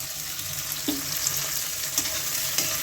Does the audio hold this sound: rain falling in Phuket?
no